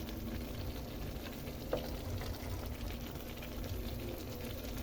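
Shrimp, squash and string beans simmer in coconut milk in a pot, giving a steady close bubbling and soft sizzle throughout, with one brief clink partway through and no talking.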